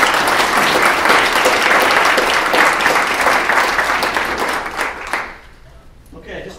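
An audience at a community gathering gives a round of applause: loud, dense clapping for about five seconds that then fades out to a quiet room with a few stray claps.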